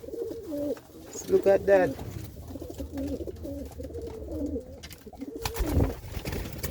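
A big young Capuchine pigeon gives a few close, high squeaks and soft coos while someone talks over it nearby.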